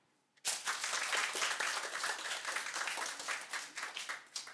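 A lecture audience bursts into applause after a brief quiet, dense continuous clapping that holds strong for about four seconds and begins thinning toward the end.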